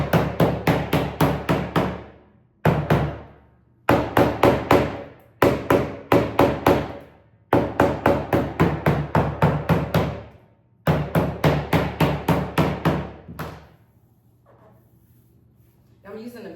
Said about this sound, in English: I'm using the mallet to just hammer it in place.